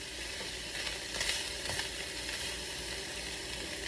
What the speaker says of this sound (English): Yes, it's frying.